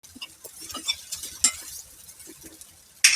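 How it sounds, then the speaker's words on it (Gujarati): Red chili powder and sugar mixed into a masala, with close, soft scraping taps of a spoon against a bowl in an uneven rhythm, ending in a sudden brighter clatter. "ટમટમના મસાલામાં આપણે લાલ મરચું અને ખાંડ એને મિક્સ કરી દેવાનું."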